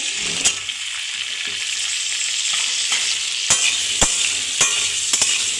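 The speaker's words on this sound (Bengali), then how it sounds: "আলুটা একটু ভেজে নিতে হবে" Potatoes fry in oil with salt for a Bengali thor chingri dish, a steady loud sizzle close up, punctuated by several sharp scraping clicks from stirring.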